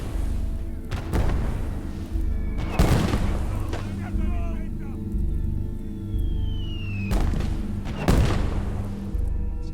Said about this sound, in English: I'm shooting an object in the foreground, just within range, but it'll miss and hit the thing behind is where the AA gun is